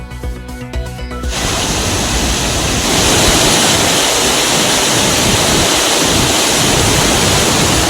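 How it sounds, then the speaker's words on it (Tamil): Kavi falls in flood, a dense, loud, steady roar of rushing water that swells slightly after a few seconds and continues unbroken, following a short burst of music at the start. "கவி அருவியில் வெள்ளப்பெருக்கால் சுற்றுலாப் பயணிகள் குளிக்க தடை."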